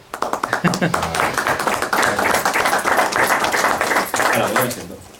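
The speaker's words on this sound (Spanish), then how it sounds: "Aplauso." Loud applause from an audience after a talk on patient-centred communication: a dense, continuous run of close, rapid clapping that holds steady before tapering near the end.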